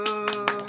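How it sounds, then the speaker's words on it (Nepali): At a Bhai Tika family gathering, people clap hands in three quick, close bursts over a steady tonal hum. "ताली बड्का सबै"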